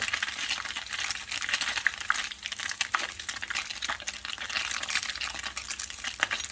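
Sea bass frying in a pan with plenty of oil gives a steady, dense sizzle with fine crackles throughout, close and fairly loud with no voices.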